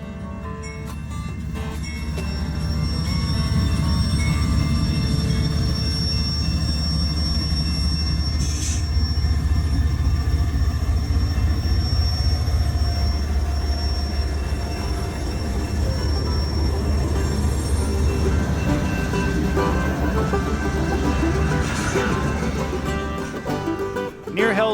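A CP freight train rolls along the Fraser River canyon near Hope, a loud, steady rumble of wheels and cars that swells in and holds for the whole stretch, with occasional high wheel squeals and no speech.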